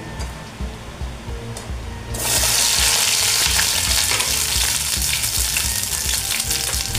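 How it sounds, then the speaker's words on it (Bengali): Okra dropped into hot mustard oil sets off a loud, steady sizzle partway through, rising from a quieter background and holding strong to the end without talk. "সর্ষের তেল দিয়েছি, গরম হয়ে গেছে। প্রথমে আমি ঢেঁড়সগুলো দিয়ে দেব"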